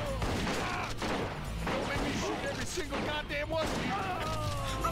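Gunfire from the cop action game Bad Boys: Miami Takedown crackles in rapid bursts, dense and continuous across the whole stretch, with game effects and voices woven through the shooting.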